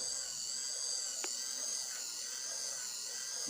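A homemade geared mini rotor spins with a steady, high-pitched whine and buzz that holds constant throughout, with one faint click partway through.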